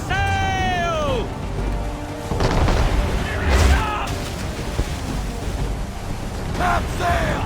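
Ship cannons boom during a naval battle in Assassin's Creed III, heavy blasts rolling under shouted crew orders, with a swooping tone and crashing impacts around them.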